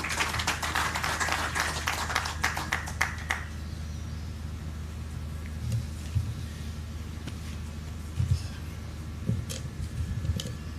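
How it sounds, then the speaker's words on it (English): Applause from the audience at a Ugandan natural resource information system launch event, a dense burst of clapping over the first three seconds that fades into quiet room noise with a low hum and scattered faint taps. "Round of applause, ladies and gentlemen."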